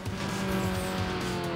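A race car engine roars steadily in the Need for Speed Underground video game, dense and loud throughout, with tire squeal layered over the drone.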